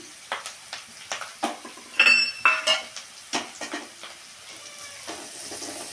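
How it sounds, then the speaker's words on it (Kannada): Turmeric and sambar powder fry in hot oil for a banana stem palya, with a constant sizzle. A spoon scrapes and clinks against the pan in quick, irregular strokes, close by and clear, with no speech. "ಇದೆಲ್ಲ ಸ್ವಲ್ಪ ಅರಿಶಿನ ಮತ್ತು ಸಾಂಬಾರು ಪೌಡರು ಎಣ್ಣೆಲೆ ಫ್ರೈ ಮಾಡಿದ್ರೆ ಹಸಿ ವಾಸನೆ ಎಲ್ಲ ಹೋಗುತ್ತೆ"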